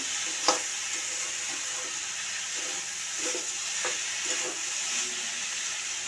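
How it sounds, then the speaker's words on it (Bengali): Sugar is stirred into food in a pan over a constant sizzling hiss, with a few soft scrapes and clinks of a utensil against the pan scattered through. "চিনিটা দিয়ে নেড়ে দিলাম।"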